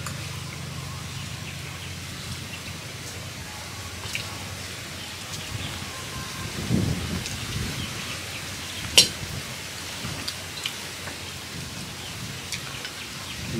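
Steady rain hisses down during a storm, with faint rumbles of thunder and a few sharper knocks and drips nearby, continuous and fairly even throughout.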